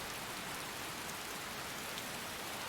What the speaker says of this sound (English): I also just realized I am reading these out in the rain